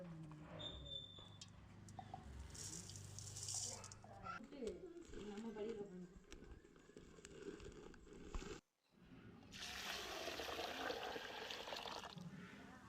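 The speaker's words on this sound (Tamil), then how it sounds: "இப்போது அளந்து எடுத்து வச்சுருக்க சோளத்தை தண்ணியை விட்டு நல்லா அலசிக்கிறோம்." Sorghum millet grains are swished and rinsed in water in a kitchen, with soft sloshing and trickling that rise and fall. A pause of near silence comes before a louder burst of water splashing and pouring.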